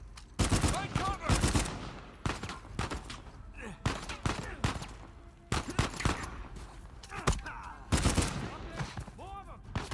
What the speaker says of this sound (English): Oh shit, Sam, sniper! Find cover!